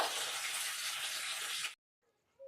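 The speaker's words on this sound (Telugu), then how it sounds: "నెక్స్ట్ అలాగే పచ్చిమిర్చి, నెక్స్ట్ వచ్చేసి కరివేపాకు, ఇవి కాస్త చక్కగా వేగాలన్నమాట" Green chillies and curry leaves fry alongside chopped onions in a pan with a loud, close, continuous sizzle that stops abruptly, followed by near silence.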